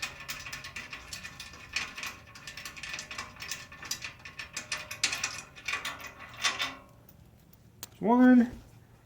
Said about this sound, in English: we're going to untorque these 2 bolts down here and take them off altogether